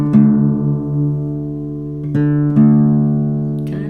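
Classical guitar strings ringing together as they are tuned by ear: a sustained, close chord that slowly decays and is struck again twice near the end, with no talking.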